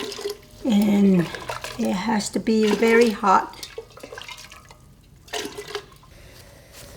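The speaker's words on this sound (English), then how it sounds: "we're going to put some water into this" Hot water for Navajo tamales is poured into a cooking pot, a liquid splashing and filling sound heard partly beneath a person talking, with a brief louder burst of pouring near the end.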